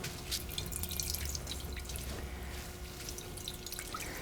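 Vegetable juice drips from a muslin cloth twisted and wrung by hand, a faint, soft patter of drips and trickling liquid heard close over quiet kitchen background.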